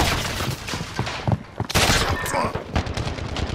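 Dense rapid gunfire from Call of Duty: Modern Warfare, in overlapping bursts and booms that stay close and loud throughout, with a player's voice briefly audible.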